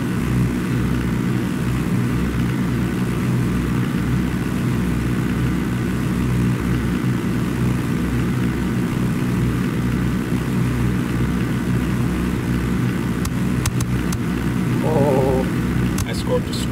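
Helicopter in the video game Ghost Recon Wildlands: a steady, loud rotor and engine drone runs through the whole clip, with brief higher game noises near the end and no talk.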